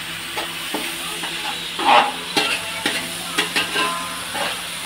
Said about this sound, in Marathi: आणि आता गेलंय हळद आणि लाल मिर्च पावडर आणि चांगल्याला परतवून घ्यायचंय